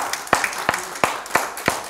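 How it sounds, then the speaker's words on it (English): Sparse hand claps from a church congregation at the close of a Wednesday evening service, five or six separate sharp claps spaced at a steady, slightly uneven rhythm, fairly close and with no talk. "Give him a hand clap tonight."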